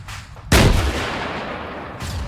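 An RPG fires in Arma 3 during Cold War combat, one sudden loud blast with a long rumbling tail that fades out, followed by a fainter second burst near the end.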